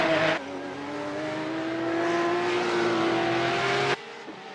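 A race car engine in a sim-racing game at the Montreal circuit holds a sustained, loud drone whose pitch climbs steadily for about four seconds, then drops away abruptly near the end. No voices.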